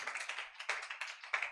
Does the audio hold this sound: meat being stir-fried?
no